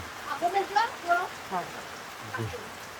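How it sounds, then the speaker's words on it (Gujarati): Steady rain patters on a surface throughout while a person talks over it close by. "વરસાદ ચાલુ છે."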